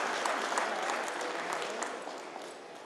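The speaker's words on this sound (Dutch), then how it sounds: "Applaus, dames en heren." Applause from the audience at a Spijkenisse New Year reception in 2011, a steady, fairly distant wash of many hands clapping with no break.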